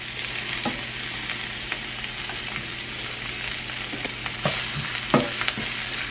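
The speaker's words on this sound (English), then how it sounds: "we're gonna add some chopped onion to this" Chopped onion frying in hot olive oil, a steady close sizzle and crackle throughout with occasional sharper pops and spoon scrapes of stirring, no voices.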